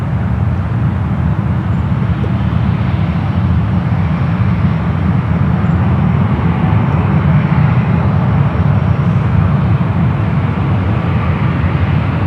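Singapore Airlines jet taxiing at San Francisco International Airport, heard as a steady, loud, broadband engine rumble with low roar that holds evenly throughout, no talk.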